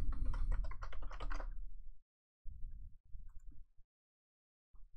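Computer keyboard typing a new zone name, a rapid run of close, crisp key clicks followed by a few scattered keystrokes and short pauses.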